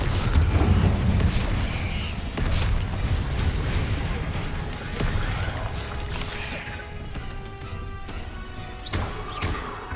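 A Confringo fire spell blasting in Hogwarts Legacy, a loud, heavy booming explosion that rumbles and crackles throughout with layered impact noise, debris and ringing game effects.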